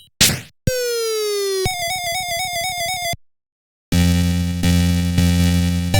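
Chiptune arcade spy music: a short burst, a descending electronic sweep, a wavering synth tone, a pause, then a bright repeating electronic melody.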